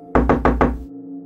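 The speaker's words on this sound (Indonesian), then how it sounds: "terdengar ada suara orang yang mengetuk pintu lagi" Four firm, evenly spaced knocks rap on a wooden door up close, loud and alone, ringing briefly before a low hum remains.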